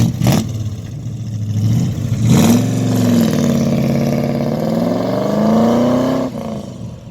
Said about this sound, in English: Rod, we'll have a listen to this baby as she goes off into the blue